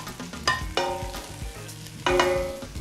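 Onions sizzling in a pot for beef bone soup, a loud close frying hiss broken by several sharp clanks and scrapes of a spoon stirring against the metal.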